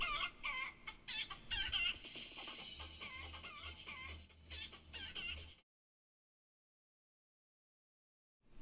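A chicken clucks and squawks in a busy, looping novelty iPhone ringtone that plays for about five seconds, then cuts to silence.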